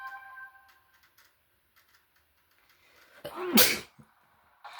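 A single sharp human sneeze bursts out loudly near the end, preceded by a quiet indoor pause with faint game music tones and small clicks.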